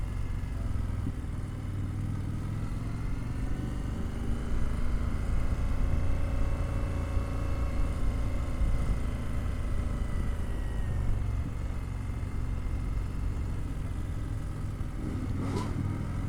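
A 2025 Indian Super Scout Limited motorcycle engine runs steadily and close by, with a low rumble that swells slightly in the middle, then settles back toward idle, with no talking.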